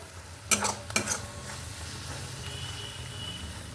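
Ghima greens stirred in a pan over a soft, continuous frying hiss, with a couple of sharp scrapes and clinks of the spatula early on.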